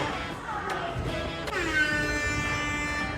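A horn-like siren blares at a trampoline park basketball game, a loud sustained tonal blast after a few short bursts, with faint hubbub underneath.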